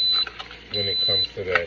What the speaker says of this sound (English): Excuse that beeping sound.